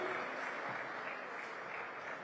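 A crowd gives warm, sustained applause for lyricist Manoj Muntashir at a Ram Mandir flag-hoisting event, an even, close-packed clapping that holds steady throughout.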